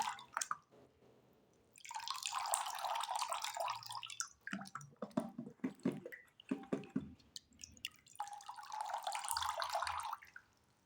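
A Brita water pitcher filter lifted out of water and dunked again, with water streaming and dripping back in two bursts around intermittent small drips and splashes, close and fairly quiet.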